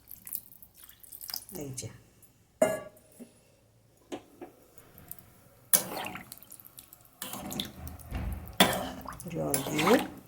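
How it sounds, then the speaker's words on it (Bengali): A little water is poured into a pan of tomato paneer curry with potatoes as it cooks, giving intermittent splashing and sizzling bursts, with someone talking quietly in between. "এবার একটু জল ঢেলে দিচ্ছি, বেশি জল দেবো না।"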